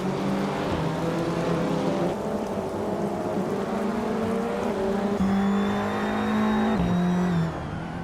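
A 2007 Honda Accord race car in the WTC class of a racing video game, its engine droning steadily and loudly throughout, pitch stepping up and dropping through gear changes with a whining rise near the end.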